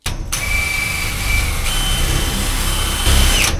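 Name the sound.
drilling with a blunt drill bit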